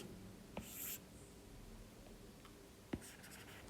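Pen drawing a transistor circuit diagram on paper, faint scratchy strokes with a couple of tapping touches as the tip lands, very quiet and close with no talk.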